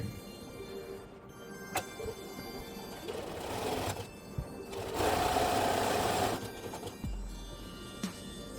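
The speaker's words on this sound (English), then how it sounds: "So I got the Bernina out and let's throw some buttonholes on here." A Bernina sewing machine stitches buttonholes on a boxy parka, its motor whirring in steady bursts with brief pauses and a louder stretch near the middle, close up with no talk.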